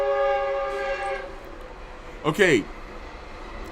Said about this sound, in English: here comes the train early in the morning.